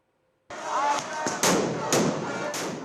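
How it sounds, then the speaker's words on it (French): Police grenades explode at a protest in Tel Aviv: several sharp, booming blasts follow one another in quick succession over crowd noise, and a voice talks over them. "Les grenades lancées par des policiers ne les arrêtent pas"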